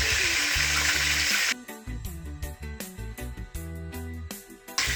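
Turkey neck pieces browning in oil in a pan for Jamaican stewed turkey neck, a broad steady sizzle at first, then broken by repeated clattering knocks and shifting bursts as the pieces are moved, with a low hum underneath.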